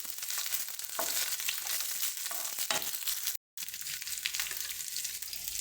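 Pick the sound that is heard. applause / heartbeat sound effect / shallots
shallots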